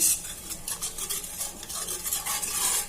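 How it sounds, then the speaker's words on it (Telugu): Milk being stirred slowly in a pan for homemade chocolates, with a soft, steady scraping and swishing of the spoon against the pan bottom. The sound is close and quiet, with no voices. "ఈ విధంగా నెమ్మదిగా కలుపుతూ ఉండాలి"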